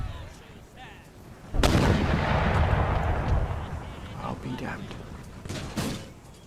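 In the video game Empire: Total War, a heavy boom erupts into a sustained roar of battle gunfire and rumbling blasts, with sharp shots cracking through over several seconds.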